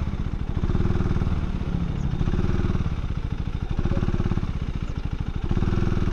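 A 2024 KTM Duke 390 single-cylinder motorcycle idles and blips, its exhaust note a loud, close, pulsing thump with rhythmic throttle rises and falls.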